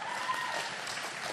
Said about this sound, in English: And then they cheer.